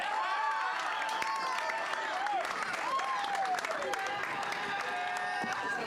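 A large outdoor crowd claps and cheers at a Baylor Lady Bears national championship parade in Waco, a dense, continuous wash of applause with voices mixed in.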